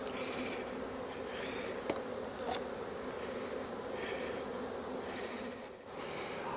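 Honey bees buzz steadily around a spring hive being fitted with a second honey super, a dense, continuous drone of many insects close by, with a few louder passes of individual bees and no talking.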